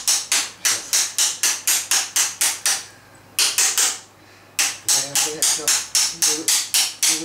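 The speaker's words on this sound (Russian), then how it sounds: "Попробуй накернуть его, и он поломается." A hammer striking a center punch against a hardened steel file in a workshop, sharp metallic blows in quick, steady bursts with two short pauses, loud and close.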